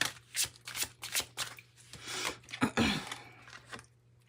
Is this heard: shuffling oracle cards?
yes